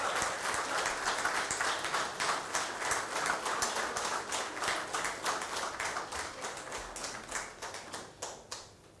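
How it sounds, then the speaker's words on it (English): An audience at a corporate talk event applauds a guest receiving a gift, the clapping steady at first and then thinning into slower, more distinct claps that fade toward the end. "A huge round of applause for Mr. Deepak Saluja."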